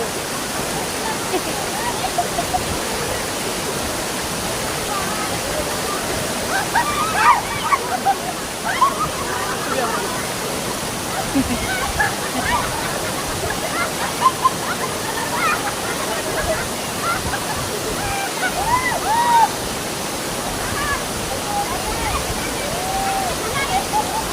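Constant roar of a nearby waterfall fills the scene, broad and rushing, with occasional voices heard beneath the water.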